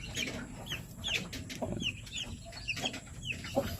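Native Plymouth chickens and their chicks cluck in a farm yard with soft chirps and short calls scattered throughout. The sounds are close but faint, and no one speaks.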